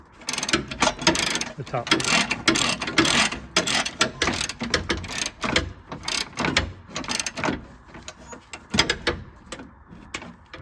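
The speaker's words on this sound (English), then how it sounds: "tighten down with that 1/2" drive ratchet, 17mm" A 1/2-inch drive ratchet tightens a 17mm bolt on a 2011-17 Honda Odyssey during timing belt and water pump work, giving close, loud bursts of rapid clicking with short pauses between strokes and a few brief spoken words.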